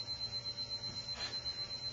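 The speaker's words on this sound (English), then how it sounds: "Let me turn off the 5-minute timer." A five-minute kitchen timer in a home kitchen used for making pizza dough rings steadily with a fast, even pulsing tone that stays faint against low background hum, with no one speaking.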